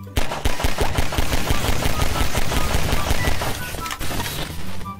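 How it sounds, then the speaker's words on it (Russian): A fart bomb going off in the Garry's Mod video game, a dense, loud run of crackling bursts and rapid pops that rattles on continuously for about five seconds with no talking over it. "Это пердежная бомба."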